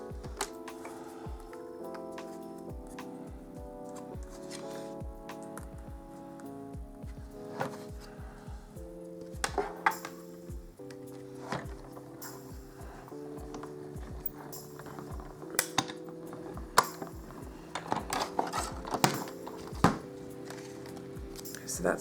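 Scissors snip repeatedly through Whisper White cardstock, cutting out paper circles for a punch-art owl treat box; the close, quiet crisp cuts come in irregular bursts.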